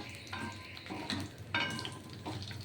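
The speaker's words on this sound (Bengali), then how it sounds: "দেখুন এই দুটো শুকনো লঙ্কা এরকম ভাজা ভাজা হবে" Two dried red chillies fry in oil spiced with mustard seeds and five-spice, a soft crackling sizzle broken by a few scraping stirs, close but fairly quiet.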